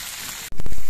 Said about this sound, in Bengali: এইভাবে আস্তে আস্তে জাল দিয়ে খোসাগুলোকে ভেজে নিলে কিন্তু সুন্দরভাবে ভাজা হয়ে যাবে।